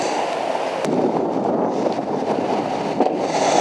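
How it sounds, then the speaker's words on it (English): Wind gusting over a lake during an afternoon of bass fishing, a steady loud rushing roar against the microphone with a couple of brief knocks, no talking. "It's the wind."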